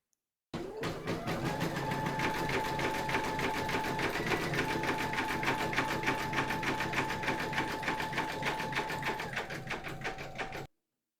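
An embroidery machine satin-stitches round the edge of dark fabric held in a hoop, sewing in black thread with a steady, rapid mechanical chatter and a sustained motor whine that runs evenly for about ten seconds and then stops.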